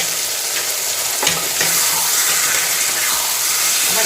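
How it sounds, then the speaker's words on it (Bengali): Taro leaves with a hilsa fish head, salt, turmeric and slit green chillies are stirred in a hot pan, giving a loud, close, steady sizzle with a few sharp scraping stirs and hissing steam. "আবার একটু নাড়িয়ে নেবো।"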